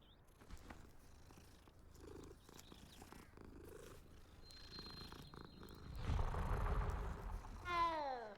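A cat purring in the game Hogwarts Legacy, a soft low rumble under quiet game ambience, followed by a louder swell of sound and a brief chirpy trill near the end.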